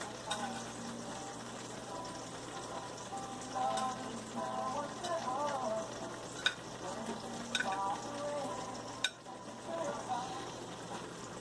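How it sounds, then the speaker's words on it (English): Meatballs going into a pan of spaghetti sauce over heat, giving a steady close sizzle and bubbling with stirring and a few sharp clinks of utensils against the pot, with faint talk in the background. "we're gonna have to put in the meatballs"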